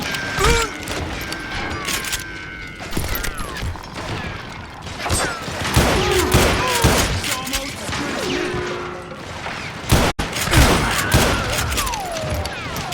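Gunfire in the Western shooter Call of Juarez Gunslinger, with dense bursts of shots, crashes and thuds running throughout, a sharp loud blast near the end, and game voices speaking over the action.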